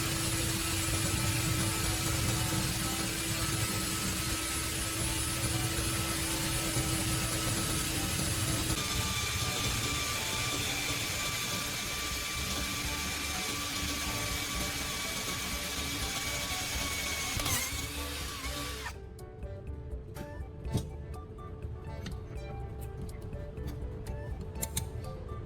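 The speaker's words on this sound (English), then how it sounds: "I drilled a large hole at the top of the iron strip" A drill bores a large hole through an iron strip, giving a steady close motor whine with a faint ticking rhythm that shifts midway and cuts off near the end, leaving quieter workshop noise.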